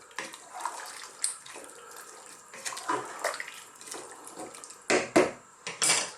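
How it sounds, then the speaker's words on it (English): Potatoes and tomatoes are stirred in a pot up close over high heat, with wet scraping and clinking against metal and a few sharper knocks near the end. No talking. "Give that a stir."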